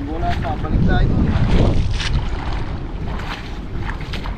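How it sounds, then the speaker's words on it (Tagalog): Strong wind buffets the microphone aboard a small fishing boat at sea, a steady roaring rumble with water sloshing beneath and brief voices talking over it. "Lakas ng hangin."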